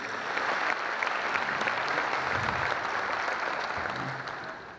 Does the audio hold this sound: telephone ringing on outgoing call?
no